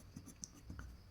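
Pen or marker writing on a board or paper during a physics lesson, a few short scratchy strokes heard close and faint, with no talk.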